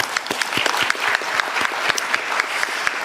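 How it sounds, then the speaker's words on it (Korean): Attendees at a Korean presidential meeting give a short burst of applause, dense and close, with distinct individual claps standing out through the whole stretch. "제가 박수 한번 드리고 싶습니다"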